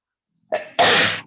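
A short intake of breath, then one loud, close, explosive sneeze that trails off quickly.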